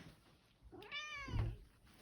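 A domestic cat gives a single clear, close meow that rises and falls, in a quiet room.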